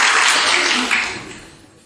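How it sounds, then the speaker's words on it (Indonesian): Applause from a church congregation during a sermon, a dense wash of clapping that starts loud and gradually fades over about two seconds. "tepuk tangan buat Pascal."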